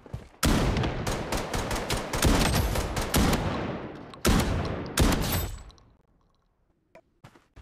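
Shotgun fire in the Blood Strike video game: a rapid series of loud, sharp blasts in close bursts with brief pauses, then a final pair of shots before the sound drops to near silence with a few faint clicks.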